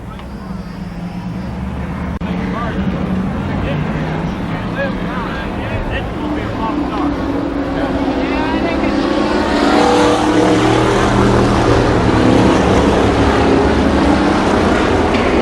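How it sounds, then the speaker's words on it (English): Street stock race cars in an 8-lap heat race at Columbus Motor Speedway, a steady loud engine roar that builds as the pack passes near, with a public-address announcer talking over it. "Your 8-lap street stock third heat race."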